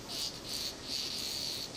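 A wasp attacks a cicada, insects buzzing in a high, pulsing drone that swells and fades in repeated surges, fairly close and without any voices.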